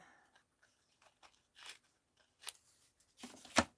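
Scissors trim paper for a collage with a few crisp, separate snips. They start quiet and sparse, then come sharper and louder toward the end, with no talking.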